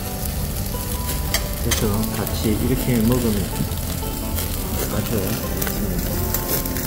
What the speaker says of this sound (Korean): 연탄불에 지글지글 구워지는 모습이 아주 맛나게 구워지고 있습니다